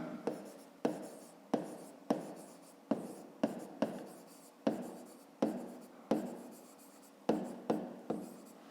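Handwriting with a pen on paper while solving a fifth-grade rectangle-perimeter exercise: a quick series of about a dozen short scratchy strokes, each with a sharp start and fading tail, heard close and fairly quiet.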